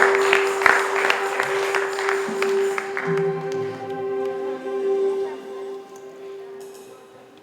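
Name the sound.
audience applause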